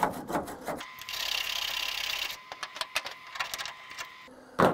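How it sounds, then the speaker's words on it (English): A wire brush scrubs rust off the rear window area of a car, giving a close, rasping scrape that runs steadily for a couple of seconds, then breaks into shorter strokes, alone without talk. "I'm using my wire brush to clean it down with just a bit."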